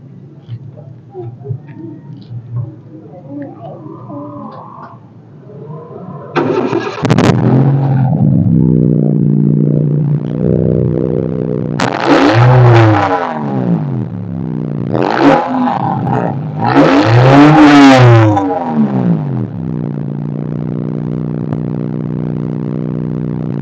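A Honda City iDSI engine revs through a universal exhaust muffler tip, several rising and falling throttle blips over a steady idle, loud and close, with someone speaking before the revving starts.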